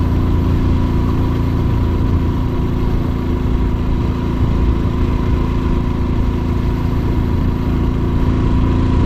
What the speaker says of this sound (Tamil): வண்டியோட சவுண்ட் நல்லா ஹெவியாக கேட்குது, ரொம்ப கஷ்டப்படுது வண்டி.